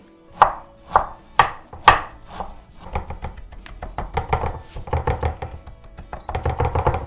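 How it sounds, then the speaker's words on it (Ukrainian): A knife finely chops washed cilantro and parsley on a board, opening with four sharp, separate chops and then settling into a faster, denser run of close cuts that grows busier toward the end, with no talking. "Гарненько вимиту кінзу і петрушку нарізаємо дрібненько."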